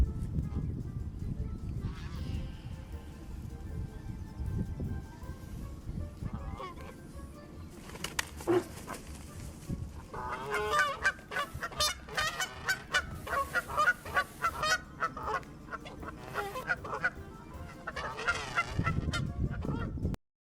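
Geese honk loudly and repeatedly in a pasture as they confront cattle, with bursts of harsh calls clustering in the middle and continuing in rough, overlapping runs.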